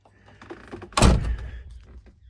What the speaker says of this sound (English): if I close this door